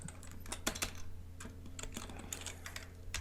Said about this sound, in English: here I'm gonna type